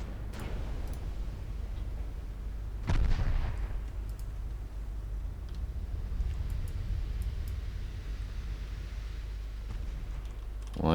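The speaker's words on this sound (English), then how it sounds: "We have torpedo hits on Heimdall." Torpedoes strike the ship Heimdall in a 1949 Norwegian campaign naval battle game: a heavy booming explosion lands about three seconds in over a low rumbling ambience, with scattered faint clicks and a second rising impact at the very end.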